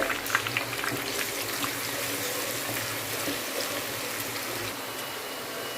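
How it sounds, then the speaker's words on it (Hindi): Onions sizzling in two cups of hot ghee in a kadai, a steady broadband frying hiss with fine crackles running throughout, close and fairly even in level with no voices. "हमारे प्याज भून चुके हैं"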